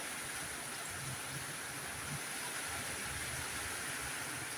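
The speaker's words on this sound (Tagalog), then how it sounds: "Grabe ang ulan. Walang tigil ang ulan." Heavy, unceasing rain during a flood, a faint continuous wash of falling water with a low rushing rumble underneath, steady and unbroken with no voices.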